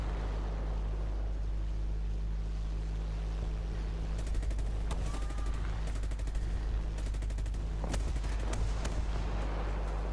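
Hawker Tempest Mk V aircraft guns firing at ground targets in War Thunder: steady engine drone throughout, with several bursts of rapid cannon fire in the second half, loud and sharp over the constant roar.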